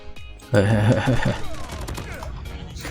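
Rapid gunfire from a customized M4 rifle in Call of Duty Mobile, a loud burst of fire with heavy in-game effects that trails off into a busy battle mix.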